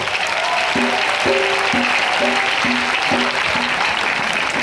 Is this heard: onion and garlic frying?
no